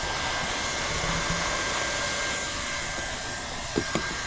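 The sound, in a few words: hot air welder sealing a TPO roofing patch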